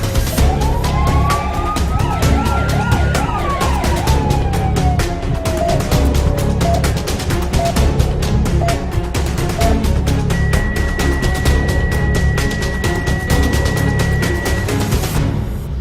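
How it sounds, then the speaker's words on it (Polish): An ambulance siren on an emergency call sweeps up and down over heavy traffic rumble and rhythmic clattering, then a steady high tone holds for several seconds. "Jak można nie przepuścić karetki na sygnale?"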